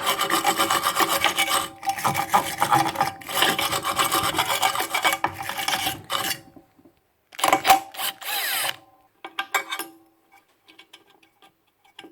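Dust is brushed off the plate of a Makita LS1013 mitre saw in close, dry scraping strokes, first in a long busy run, then in shorter bursts separated by silent gaps.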